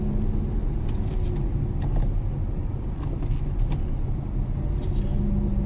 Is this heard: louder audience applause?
no